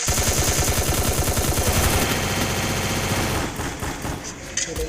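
A teammate's rapid automatic gunfire bursts loudly in a video game, a fast rattling stream of shots that thins into scattered reports, with a voice talking over it.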